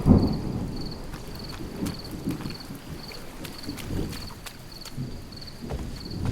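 Thunderstorm with thunder and rain: low rumbling and steady rain wash with gusty wind noise, a sharp crack at the start followed by continuous rolling rumble.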